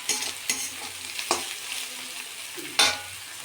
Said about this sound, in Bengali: দিয়ে এখন এটাকে একটু ভালো করে ভেজে নেব